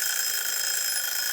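An alarm rings out in a continuous electronic tone, steady and fairly loud for just over a second, with no talking over it.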